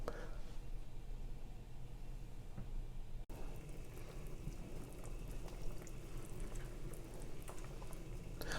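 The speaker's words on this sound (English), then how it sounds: "I'm going to let my gumbo simmer" Louisiana gumbo simmering in a covered Dutch oven, a steady faint bubbling and patter that runs through the whole stretch, with a brief dropout partway and no talk.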